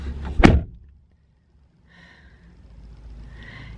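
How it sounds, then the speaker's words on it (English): A car door slams once, sharp and close, then goes quiet. A faint electronic chirp-like sound follows that fits the car locking. "Lock the door."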